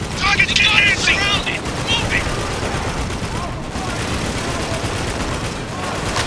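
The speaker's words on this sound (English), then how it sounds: "Oh, wow, that's a nice effect with the bullets." Heavy bullet gunfire in the war shooter Spec Ops: The Line, a loud sustained volley of shots and impacts with sharp whizzing accents early on, while someone talks over the action.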